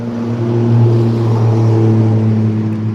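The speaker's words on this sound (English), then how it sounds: "loud trucks going by." A deep, loud engine drone rumbles steadily as heavy vehicles pass close by, with a low hum sustained throughout.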